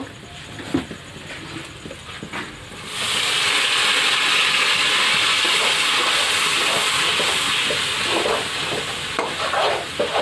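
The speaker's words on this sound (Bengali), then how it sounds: "জল দেবো" Water poured into a hot pot of spiced beef curry sets off a sudden loud hiss that rises after a quieter start and steams on steadily, easing slightly near the end.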